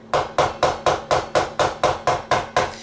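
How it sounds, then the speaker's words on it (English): A hammer taps stainless steel frets into the slots of an electric guitar neck, sounding as eleven sharp, evenly spaced knocks in quick steady rhythm, close up and alone. "they're not going to dent or anything when I hit them with the hammer"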